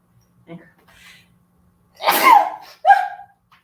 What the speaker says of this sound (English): Ooh, excuse me, I'm about to sneeze.